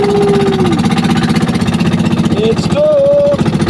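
A fishing boat's engine chugs close by in a fast, steady pulsing rhythm, running loud and constant while someone talks over it.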